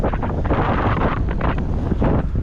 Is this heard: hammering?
no